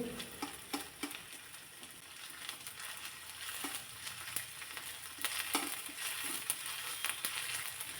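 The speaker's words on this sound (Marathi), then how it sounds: "याचा कच्चा स्मेल जाईपर्यंत हे परतून घ्यायचं आहे" Sliced onion and ginger-garlic paste fry in oil in a kadai with a steady crackling sizzle, punctuated by occasional stirring scrapes and clicks, close and alone without talk.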